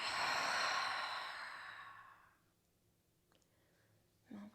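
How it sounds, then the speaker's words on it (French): A long breath let out through the mouth during a yoga session, a soft airy exhale that swells then slowly fades over about two seconds, followed by near silence and a faint click. "Expirez, relâchez par la bouche."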